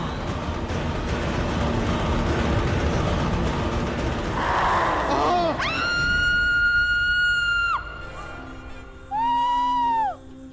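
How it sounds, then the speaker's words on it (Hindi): A man lets out a loud, sustained Tarzan-like yell with wavering pitch, repeated after a short pause, over a dense noisy background. "तुम ऐसे टार्ज़न की तरह क्यों चिल्ला रहे हो?"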